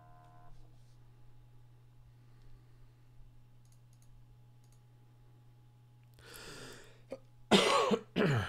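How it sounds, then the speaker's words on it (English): A person with a cold coughs during a Magic: The Gathering draft session. Quiet clicking comes first, then two or three harsh, close coughs burst out loudly near the end. "Sorry about the coughs, guys. I'm just trying to get over this cold."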